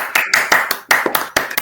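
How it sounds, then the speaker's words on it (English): A run of sharp hand claps in an uneven rhythm, roughly seven or eight close, loud strikes with short gaps between them. "It's clapping the new thing."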